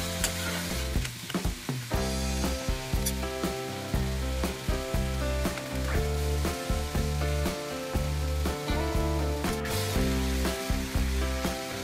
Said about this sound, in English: I'll simply stir for 5 minutes just to remove the rawness of the tomato